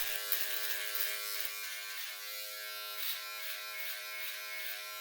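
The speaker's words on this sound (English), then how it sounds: "use your shaver attachment to trim below your beard" A Wahl shaver attachment trims below a beard, giving a continuous close electric buzz that stays steady throughout with no voices.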